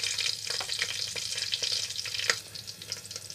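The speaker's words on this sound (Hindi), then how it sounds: "हमारी हरी मिर्च भुन चुकी है" Green chilies fry in ghee with lightly crushed whole spices for a mixed vegetable pulao, giving a steady close sizzle with scattered crackles and pops and no voices.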